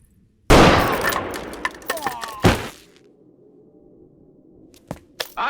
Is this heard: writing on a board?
no